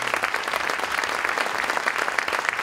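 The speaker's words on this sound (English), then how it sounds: "Please give a round of applause to all of our letter winners this year." Sustained applause from a high school concert audience honoring band letter winners, dense steady clapping filling the hall with no talk over it.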